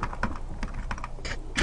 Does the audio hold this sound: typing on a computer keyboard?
yes